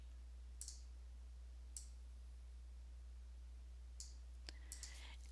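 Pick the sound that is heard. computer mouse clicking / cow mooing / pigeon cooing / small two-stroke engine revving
computer mouse clicking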